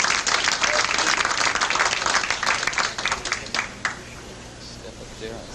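A live crowd at a 1988 televised bowling match at Durbin Bowl applauds loudly, then the clapping fades away after a few seconds while a host's voice carries over it.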